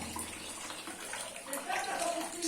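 Water running and draining from washed chicken pieces sitting in a strainer, a steady close splashing trickle with faint clinks, fairly quiet and unbroken throughout.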